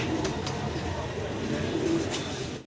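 Soft cooing from a pair of Andalusian-colored fancy pigeons, a few low murmuring coos over a steady background hum, fairly close and continuous.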